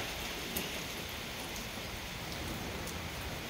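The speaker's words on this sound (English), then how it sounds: "Every day rain, rain, rain, rain." Steady rain in northern Thailand during Typhoon Yagi hisses evenly on surfaces, a constant wash of noise with a few faint drip ticks, no talking.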